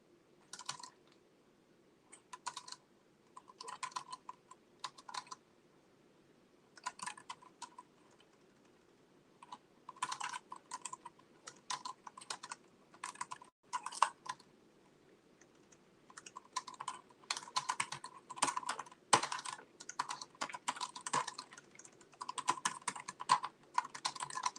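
Fingers type on a computer keyboard in short irregular bursts of crisp clicks separated by pauses, growing denser and faster toward the end, close and clear in a quiet room.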